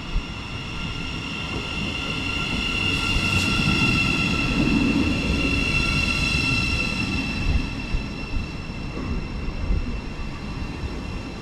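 A Great Northern Class 717 electric train arriving at a station platform, a steady loud rumble of wheels and motors with a high electrical whine and faint squeals as it rolls in.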